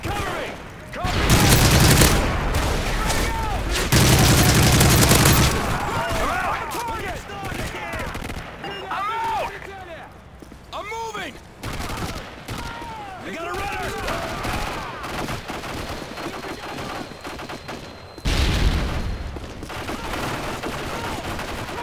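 Gunfire in Call of Duty Modern Warfare 3 survival mode, loud bursts of automatic fire and booms with battle shouts and radio-style voices, rising and falling across the scene.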